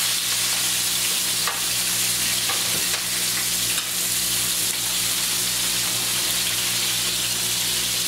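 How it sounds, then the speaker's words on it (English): Onions hitting a hot pan and frying, a loud, dense, continuous sizzle that holds steady throughout, with a few faint clinks, close by and with no talk. "we'll toss our onions inside"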